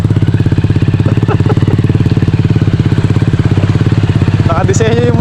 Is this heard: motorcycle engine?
yes